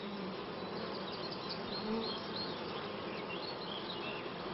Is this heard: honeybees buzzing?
yes